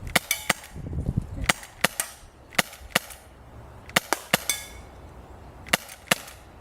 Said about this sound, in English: Let me see if I can get a double tap on that tin can down there.